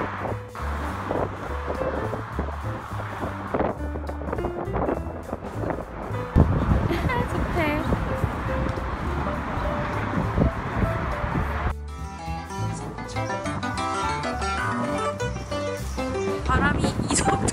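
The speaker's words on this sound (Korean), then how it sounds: "바람이 이 정도로 불어요." Strong wind buffets the microphone outdoors in Seattle, a steady loud roar running throughout, with people talking over it and a shift in the background noise partway through.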